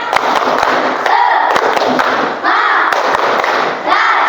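Children at an Islamic learning group clap out a rhythmic spirit chant, sharp in-unison claps in a patterned beat, loud and close, with young voices chanting between the claps.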